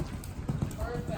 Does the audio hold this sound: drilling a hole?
no